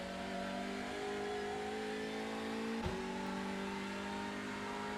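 Hyundai Elantra TCR race car in iRacing at Knockhill, its engine droning steadily under load as it accelerates out of a corner, with a brief gear-change dip midway before the revs keep climbing, loud and close.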